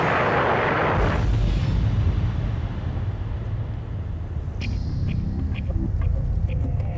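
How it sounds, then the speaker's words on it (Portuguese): A meteor strikes the ground with a loud, broad explosive blast that fades into a deep, lingering rumble, followed by scattered cracks and debris sounds. "haveria uma grande explosão."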